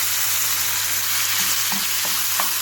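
Chopped tomatoes mixed into a sizzling pan with potatoes and spices, a steady loud frying hiss with a few faint stirring scrapes.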